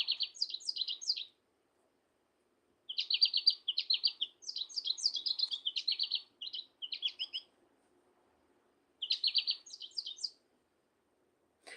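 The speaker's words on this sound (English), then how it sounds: "this is a beautiful yellow and black American goldfinch" Yellow and black American goldfinch singing in bursts of quick, high, twittering notes, clear and fairly close, with short silent gaps between phrases and no voices.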